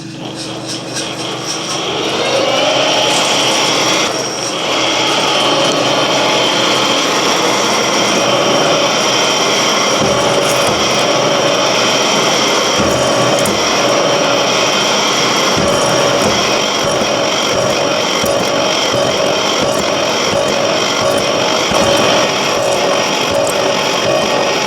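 A slotter machine roughs in gear splines for a steam engine speed change gear, a loud, continuous mechanical drone with steady motor whine and some irregular knocks as the cut proceeds.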